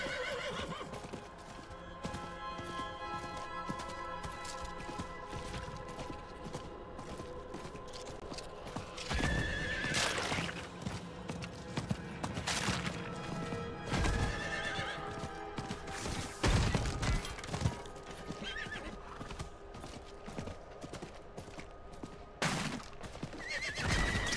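Horse neighing and whinnying over a steady clip-clop of hooves in the dark fantasy video game Diablo IV, with several whinnies rising above the continuous trotting rhythm and game ambience, no talk.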